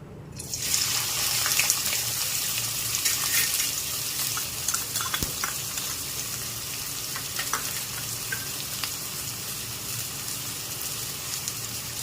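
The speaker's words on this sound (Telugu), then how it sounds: "ఒక 2 పచ్చిమిర్చి అండ్ 3 స్మాల్ సైజ్ ఆనియన్స్ సన్నగా తరుక్కొని ఆయిల్ కాగింది కదండి, అందులో వేసుకుందాము" Sliced green chillies and small onions frying in hot oil for chicken fry, a steady loud broadband sizzle that starts after a brief quiet moment and continues evenly throughout with faint scattered crackles.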